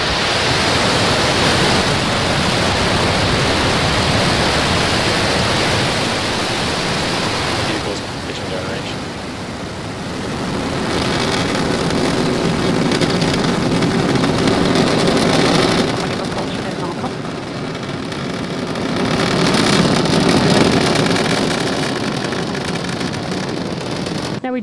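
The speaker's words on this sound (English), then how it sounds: "And we have liftoff." The Falcon 9 rocket engines at the Starlink-14 liftoff, a broad, continuous roaring rush that swells and dips over time, with a launch commentator speaking over it.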